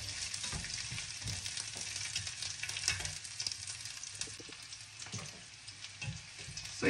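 Sea bream fish fries in hot oil in a pan with a steady, close sizzle and crackle, occasional stirring scrapes and bubbling pops, and no talking.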